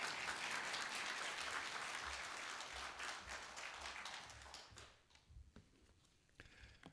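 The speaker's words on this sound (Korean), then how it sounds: "다 같이 박수로 환영해 주시면 감사하겠습니다." A church congregation claps together to welcome a speaker, a dense round of applause that holds steady, then fades to a few scattered claps near the end.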